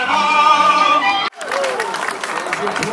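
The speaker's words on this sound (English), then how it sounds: "Applause, applause." Short burst of crowd applause with some chatter, starting suddenly after a brief stretch of tonal music and continuing at moderate loudness.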